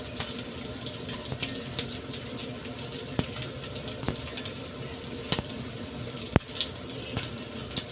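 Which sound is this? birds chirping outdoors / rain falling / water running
water running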